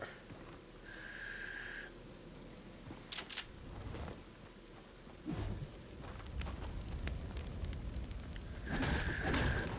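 Storm in a video game, with a steady wash of rain noise and a few sharp thunder-like cracks near the start and middle, surging louder toward the end, while the players are mostly quiet.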